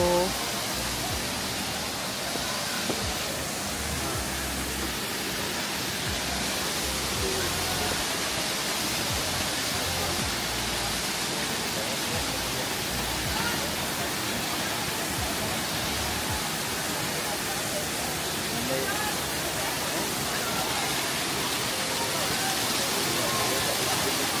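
Mackenzie Falls in Grampians National Park, Victoria, Australia pours as a constant broadband roar of rushing water, heard steadily throughout with a few faint voices of visitors underneath.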